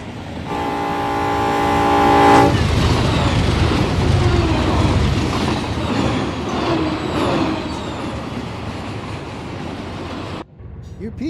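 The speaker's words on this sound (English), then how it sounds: "UP train. I didn't even know it was caught up to me already." A Union Pacific freight train in the Run 8 train simulator game sounds its horn in a steady tonal blast, then rolls past close by with a loud, continuous rumble and clatter before cutting off abruptly.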